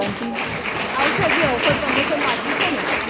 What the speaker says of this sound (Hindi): एक बार loyalty जोरदार तालियां होनी चाहिए